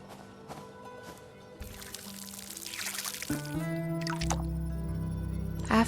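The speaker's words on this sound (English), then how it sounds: "Then I watered the beet seeds." Water pouring onto beet seeds in the Fractured Blooms garden game, a steady splashing stream that builds and continues to the end over soft background music.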